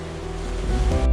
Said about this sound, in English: The ocean, with its waves and tides, is one of the most powerful forces of nature